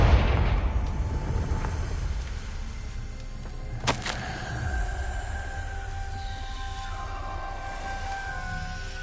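A Confringo blast spell goes off in a wizard video game: a low rumbling boom at the start is followed by a sharp crack near four seconds, with a lingering tonal ring that fades slowly afterward.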